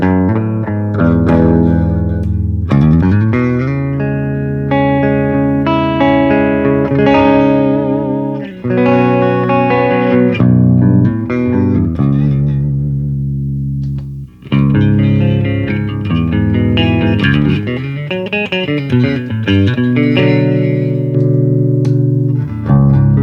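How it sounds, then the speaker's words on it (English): An Engl Ironball 20W Special Edition amplifier drives a silver Dean Dave Mustaine VMNT electric guitar into heavy distortion, with loud, close chugging riffs and sustained chords, brief pauses near the middle and no talking. "I wanted to show this amplifier and its distortion"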